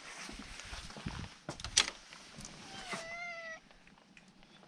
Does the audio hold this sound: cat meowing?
yes